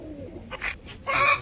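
A pigeon, one of a prized Kasni Ambal pair kept in a pigeon house, gives a couple of soft, close coos in quick succession against a quiet background.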